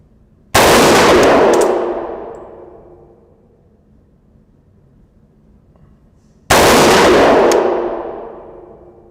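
Two loud, sharp reports from an AR-15 rifle built as a Colt Commando clone, fired with handloaded ammunition at a target 50 yards out on an outdoor range, several seconds apart, each trailing off in a long fading echo.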